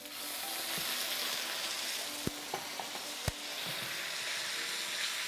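Beef sizzling and frying in rapeseed oil in a pan on a hob, a steady hiss throughout with a few sharp clicks and pops of spitting fat, close and fairly quiet.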